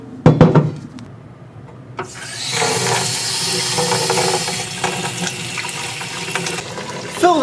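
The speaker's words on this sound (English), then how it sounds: "let's go on over to the sink and fill it up with a little bit of water." Kitchen sink tap runs into a pot holding corn, a steady broadband rush of water filling the pot for several seconds, close and fairly loud, after a few sharp clanks at the start.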